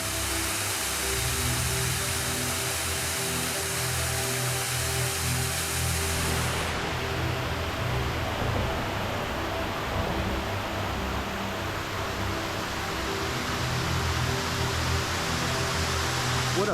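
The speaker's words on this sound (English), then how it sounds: "What a beautiful waterfall." Hector Falls at Seneca Lake in New York's Finger Lakes gives a loud, steady roar of falling water. The rushing wash stays close and unbroken throughout, with no voices.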